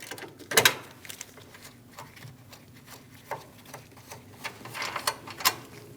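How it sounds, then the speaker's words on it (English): A 10mm socket ratchet loosening the ground strap nut on a 2016–2025 Chevrolet Malibu 1.5L during radiator replacement, heard as quiet, uneven mechanical clicks and ratcheting bursts, close, no talking. "we're going to remove the nut for the ground strap."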